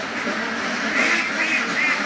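Egg-laying ducks on a farm in Qatar quack in a steady, busy chorus, several birds close by calling at once against a constant background hum.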